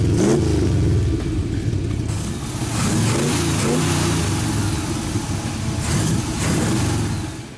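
A race-tuned 1963 Corvette Grand Sport tribute with a 327 V8 runs loud and close, its deep throbbing exhaust rising and falling through revs in a dense, continuous rumble with no voices.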